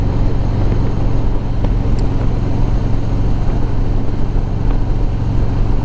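A Harley-Davidson Street Glide with the 107 engine runs at a steady, loud idle, a dense continuous low rumble with no talk.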